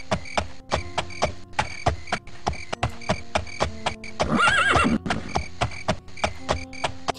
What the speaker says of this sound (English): Get on my horse